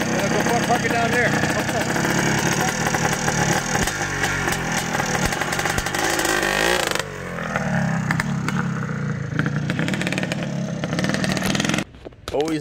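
A restored 1984 Yamaha YZ465 two-stroke motocross bike running nearby, a loud buzzing, revving engine that drops toward idle partway through and cuts off near the end, with people talking over it.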